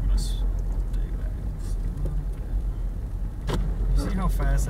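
A truck climbing a snowy hill during a Northwest Arkansas winter storm, its engine rumbling steadily close by inside a vehicle, with people talking over it.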